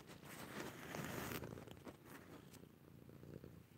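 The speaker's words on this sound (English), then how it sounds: "Coho, is sitting on my lap and purring now." A cat purrs while lying on a lap, a soft rhythmic rumble mixed with rustling and handling noise, faint and close.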